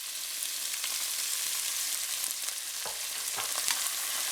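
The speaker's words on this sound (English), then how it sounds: "you want to hear that very nice loud sizzle when you're putting this in." Scallions and onions sizzle and crackle in hot oil for a fish curry, a steady close frying hiss with scattered small pops, no talk.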